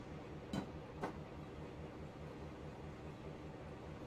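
Train running in Train Simulator 2020, hauling gas and oil toward Kalispell: a steady low rumble with a continuous rolling drone, broken by two sharp clacks early on, then even running.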